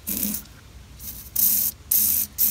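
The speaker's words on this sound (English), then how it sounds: "we might be using WD-40 today, which is fine because that burns too" WD-40 sprayed onto the engine of a 1978 IH Cub Cadet 1000 tractor that sat 20 years: four short hissing aerosol bursts, close and fairly loud, separated by brief pauses.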